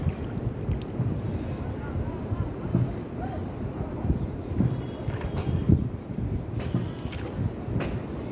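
A boat moving across a dam reservoir with wind buffeting the microphone, giving a steady rumbling wash of water and motor-like noise throughout with occasional gusty bursts.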